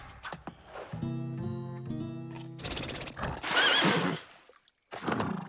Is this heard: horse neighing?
yes